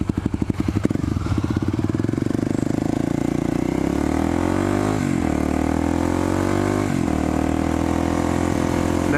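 Kawasaki Ninja 400 motorcycle engine under way, loud and continuous, pitch rising and falling with a few shifts as the bike accelerates, close to the rider throughout.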